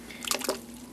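A pump circulating water through a homebrew wort chiller: a steady low hum under soft trickling and dripping water that swells briefly in the middle.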